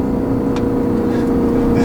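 A 2013 Audi RS5 engine rumbles steadily up close, a smooth continuous drone with a mild rise in pitch and no pauses or voices over it.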